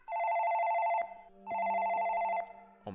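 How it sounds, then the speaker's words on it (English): Telephone ringing in a house, two long electronic bell rings with a pause between, loud and close, then a clunk as the ring stops. "Jeff, get the phone!"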